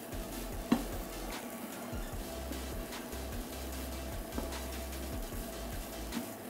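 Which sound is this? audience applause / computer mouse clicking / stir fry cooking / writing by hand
stir fry cooking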